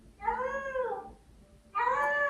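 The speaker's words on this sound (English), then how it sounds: "Don't mind the kitty. She's in heat." A female cat in heat meows in two long, drawn-out, wavering calls separated by a short pause, close by in a quiet indoor room.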